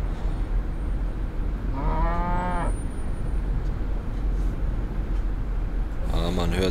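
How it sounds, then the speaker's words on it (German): Two drawn-out cow moos in a rural village scene of the Fernbus Simulator bus game, heard over a constant low bus engine rumble, the second moo cut short at the end. "Ja, man hört viele Kühe"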